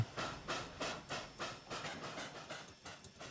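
A C&O coal train chuffs in the video game Trainz: A New Era, a rhythmic series of steady exhaust beats repeating about twice a second, moderately loud and without talk.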